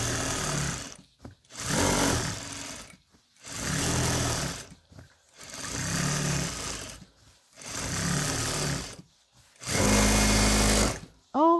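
A sewing machine stitches a baby quilt in five or six close, loud bursts of a few seconds each. Short quiet pauses separate the runs, and the last burst is the steadiest.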